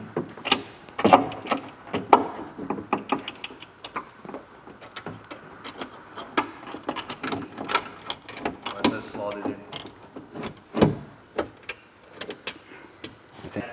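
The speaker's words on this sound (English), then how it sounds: "then we'll bolt on that bottom bolt right" Bolting the bottom bolt of a rear wing trunk mount on a BMW G-Series M2, with a busy stream of small clicks, ratchet ticks and metal taps, close and fairly constant, mixed with brief talk.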